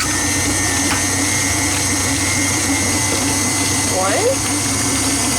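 An electric mixer creams sugar for a homemade strawberry bundt cake as eggs go in one at a time, its motor whirring steadily and loudly throughout while a person talks over it.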